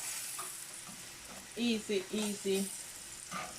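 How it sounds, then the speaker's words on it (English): Steady sizzling of plantain frying in hot oil, with a low voice speaking over the crackle for a moment. "It doesn't take long to fry plantain at all."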